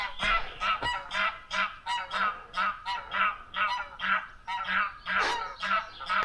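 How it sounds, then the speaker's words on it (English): Geese honking outdoors in the Cairngorms, a regular series of loud, harsh honks repeating about twice a second, close and clear with no talking. "Couple of noisy geese in the background"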